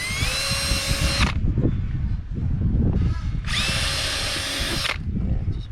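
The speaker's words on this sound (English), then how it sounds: "Yeah, I think we want to drill." A power drill whirs in two sustained bursts as it bores through a plastic part on an old ski boat, loud and close, with brief pauses between runs.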